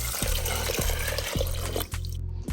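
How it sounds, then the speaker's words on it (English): Water pours and splashes steadily into a cooking pot of washed beans for a bean stew, a close continuous gurgling stream with regular pulses and no talking. "We'll add some water."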